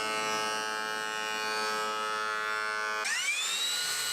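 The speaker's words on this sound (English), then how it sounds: "Then I could thickness plane the opposite face to get the piece to a consistent thickness." A thickness planer runs with a steady high-pitched motor whine, then its tone shifts abruptly as a wooden workpiece feeds through the cutterhead, loud and close with no voices.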